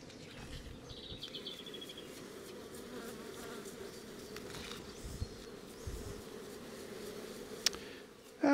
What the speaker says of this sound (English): Wow, that hive is packed full of bees down there.